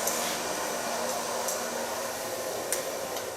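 Steady, close whooshing of a hair dryer blowing hair dry, a continuous airy roar with faint brief ticks.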